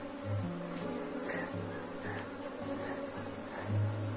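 A honeybee swarm hums at a hive, a dense steady buzzing drone close by with individual bees rising and fading in pitch as they pass, with no voices.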